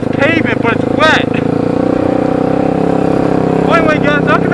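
A Honda 300EX ATV engine runs steadily at close range on wet pavement, a continuous loud drone, while someone talks over it.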